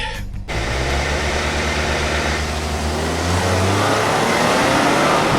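A Volkswagen Tiguan in sport mode with traction control off, racing another car in a drag race: a loud, steady engine drone rising in pitch as it accelerates, after a brief quieter moment at the start.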